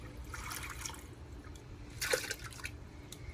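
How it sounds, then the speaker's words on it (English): Live crawfish being shaken off and dropped into a tub of clean water, giving soft splashes and sloshing with a brief louder splash near the middle, over steady faint background noise. "then you put it in the clean water."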